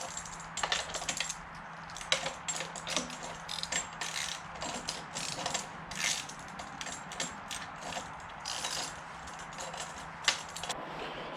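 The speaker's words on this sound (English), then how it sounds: "we're just going to start tightening our chain tensioners" A hand ratchet clicks in quick, uneven runs while tightening the chain tensioners on a 50cc dirt bike, close and crisp against a faint background hum.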